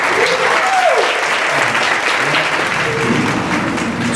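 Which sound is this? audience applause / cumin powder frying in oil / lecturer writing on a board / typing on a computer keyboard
audience applause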